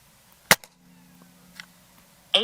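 A Gamo Shadow Elite .22 break-barrel air rifle fires one sharp, loud crack, followed by a faint low hum and small clicks, then another abrupt burst of noise at the end, with no voices.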